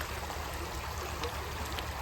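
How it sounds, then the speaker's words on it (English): A cold river being crossed on foot in a village: a steady, close hiss and rush of flowing water, fairly loud and even throughout, with no distinct splashes standing out. "I'm crossing this river and the water is very cold"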